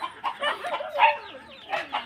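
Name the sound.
chickens and chicks clucking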